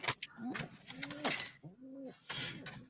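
A cartoon bird coos like a pigeon in a few soft, throaty bursts with short gaps between them. Other sounds come and go around the calls.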